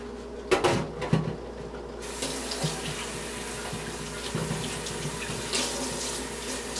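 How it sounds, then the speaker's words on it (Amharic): Tap water running into a vessel in a home kitchen while brewing Ethiopian honey wine (tej), a steady splashing flow with a few knocks and clunks near the start, close by and without talk. "ውሃ ጨምራለሁ"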